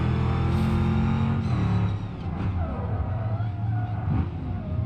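A heavy Ford Crown Victoria–style sedan in BeamNG.drive revs its engine loudly and steadily, the pitch rising and dipping as it accelerates, with no talking over it.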